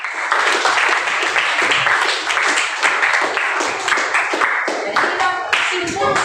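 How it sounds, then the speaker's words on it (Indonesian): Students in an Indonesian-language classroom applaud a group after its presentation, a dense, fairly close burst of many hands clapping that carries steadily for several seconds, with a few voices mixed in toward the end. "Tepuk tangan untuk kelompok 4."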